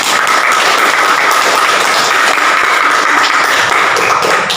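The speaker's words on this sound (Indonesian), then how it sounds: "terima kasih kelompok 4 kita kasih tepuk tangan untuk kelompok" A classroom of students applauding a presenting group, a steady dense wash of many hands clapping at once, loud and continuous throughout.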